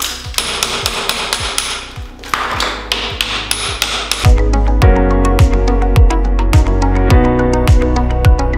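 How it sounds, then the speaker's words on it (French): A hammer drives a chisel into a wall during a house renovation, striking in a steady, loud, regular rhythm of sharp close metallic blows, with no talking. "j'ai rattaqué au marteau et au burin"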